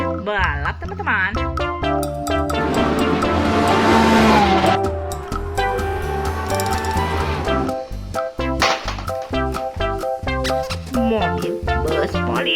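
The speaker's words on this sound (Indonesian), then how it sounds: "Mobil balap, teman-teman." A toy race car gives off loud, synthetic racing sounds with revving engine tones and screeching skids, playing in a lively electronic pattern with bursts and pauses.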